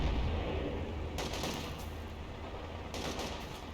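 An MG42 machine gun fires in a World War II strategy video game, heard as a couple of short rattling bursts over a dense, constant battle rumble, with no talk.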